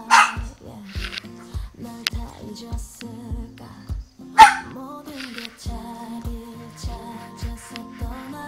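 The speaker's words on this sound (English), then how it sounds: "That's my dog." A pet dog barks in a steady series of sharp woofs, close and loud, roughly twice a second, with a whimpering yip in the middle and music playing underneath.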